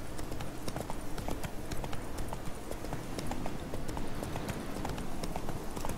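A horse's hooves clop in a steady, quick rhythm as it is ridden diagonally through a forest in The Witcher 3: Wild Hunt, continuous and close, with no voices over it.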